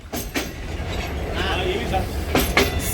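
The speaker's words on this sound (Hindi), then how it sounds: "ये देखें ये है रहमान बाबा एक्सप्रेस" Rehman Baba Express, a passenger train running from Karachi to Peshawar with new Chinese coaches, rumbles close by with a steady low roar and a few sharp clanks, while someone speaks over it.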